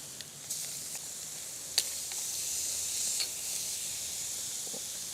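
Thin-cut boneless pork chops sizzling over a LifeDoo Urod portable fire pit, a soft continuous hiss outdoors with a few sharp pops and crackles rising above it.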